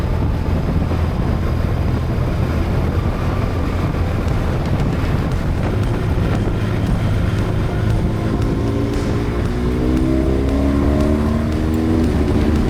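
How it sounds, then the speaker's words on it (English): A motorbike ridden on a tour through Spain and Portugal, its steady engine drone and road noise mixed with heavy wind buffeting the microphone and a rising engine tone toward the end. "Them motorbikes are great."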